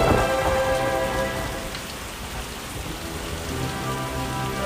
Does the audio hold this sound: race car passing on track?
no